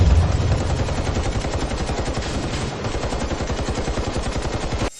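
Rapid automatic gunfire in a Chinese fantasy drama, a dense sustained burst of shots fired at a target that the bullets cannot pierce, loud and continuous for the whole stretch with no talk.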